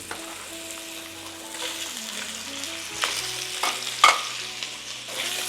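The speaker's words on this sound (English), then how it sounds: "In goes olive oil, then our smoked sausage." Smoked sausage fries in olive oil in a skillet, producing a bright sizzle that builds and crackles, with a low background hum and a few sharper pops and scrapes near the end.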